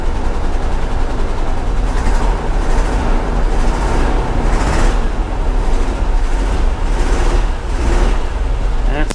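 A rough-running engine in a 1985 GMC C1500 Sierra pickup, fresh gas just added after a fuel tank replacement, drones steadily and loud with a low rumble and faint uneven surges throughout.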